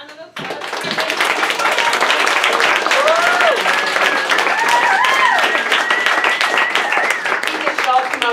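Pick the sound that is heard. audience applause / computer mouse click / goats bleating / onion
audience applause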